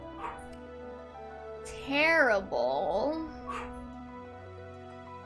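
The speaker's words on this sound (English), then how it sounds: "Sorry if you can hear the dog barking." A dog barks and whimpers in a short, loud burst of yips mid-clip, heard indoors over faint game music while a person talks.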